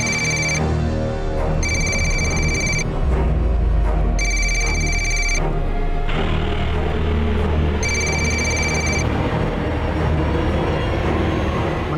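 An electronic phone ringtone chirps in repeated bursts over a loud, steady rumble of a moving train.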